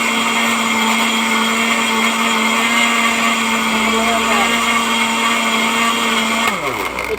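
A blender whirs steadily at close range as it blends watermelon juice, a loud continuous motor whine that winds down near the end.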